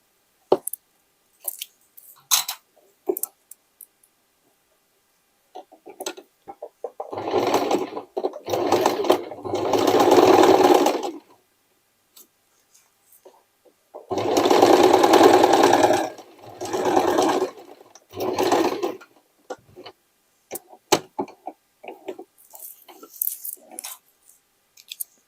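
Home sewing machine stitching a triple zigzag on denim for a hooded jacket made from old jeans, running in several short bursts of close mechanical whirring between quiet handling clicks and rustles.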